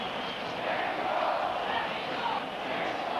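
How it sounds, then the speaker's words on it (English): Sellout boxing arena crowd during a WBC light welterweight title fight between Chavez and Haugen, chanting Mexico as a dense, steady roar that fills the whole stretch without pause. "Mexico, the chant from the sellout crowd."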